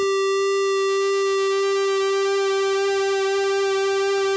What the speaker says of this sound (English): you can hear that an additional wobble there coming from the pulse width modulation on the pulse wave